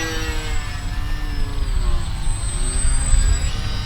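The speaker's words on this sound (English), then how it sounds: "the plane is still very easy to manage even in this moderate wind" An FT DHC-2 Beaver radio-controlled model plane flies overhead in moderate wind, its electric propeller whining steadily with a slowly shifting pitch over rushing wind noise.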